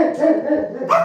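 Dogs barking and whimpering indoors, close and fairly loud, with a person's voice over them through most of the short moment.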